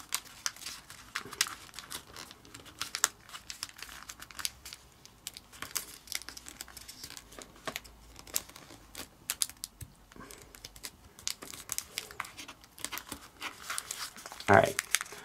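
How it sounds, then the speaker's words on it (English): Paper is folded and creased into an origami jack-o-lantern, giving soft, close crinkles, rustles and sharp creasing snaps in irregular bursts, with one louder crackle near the end. "fold this flap down and back up, estimating thirds"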